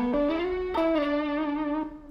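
A Fender Stratocaster MIM HSS electric guitar played through an Ibanez TS9DX overdrive pedal rings out with distorted sustained notes, a few picked changes and slight bends, loud and close with no talk.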